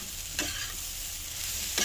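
Bread frying in a pan gives a steady, continuous sizzle throughout, with a couple of brief stirring scrapes near the start and end, and no talking.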